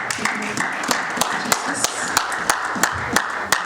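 A church congregation claps in a steady, rhythmic beat, roughly three sharp claps per second, close and fairly loud over background music and voices.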